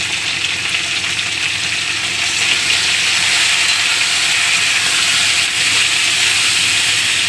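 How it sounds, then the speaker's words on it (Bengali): Beans and potatoes fry in a pan with salt and turmeric, giving a steady, loud, close sizzle and hiss that holds evenly throughout with no talking. "বিনস আলুটা ভাজা হবে"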